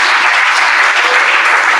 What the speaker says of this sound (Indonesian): Saya tepuk tangan dulu buat dia.